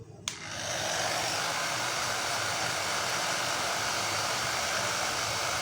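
A hair dryer blows while hair is brushed and layer-cut, switching on with a brief click and then running as a steady loud whooshing rush of air, constant and close with no talk.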